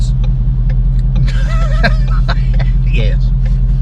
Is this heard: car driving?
yes